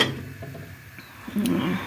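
Metal sterilization rings set down on top of pots filled with water, giving a few light clinking and clattering knocks of metal on metal in a quiet kitchen, with a louder clatter near the end.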